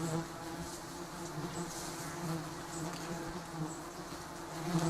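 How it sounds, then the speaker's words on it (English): Giant stinging honeybees buzz steadily at their nest, a dense, continuous drone that stays loud and close throughout with slight swells in intensity and no voices. "The giant stinging honeybees build their nests on sparsely leaved trees or rock crevices where they can see the sun"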